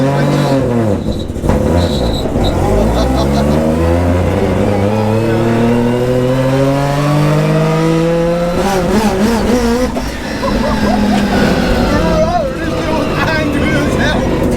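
1000HP three-rotor turbocharged engine in a 1989 Volvo 745 pulling hard, a loud continuous rising rotary roar with climbing pitch through the gears, a brief dip around a shift, heard from inside the car.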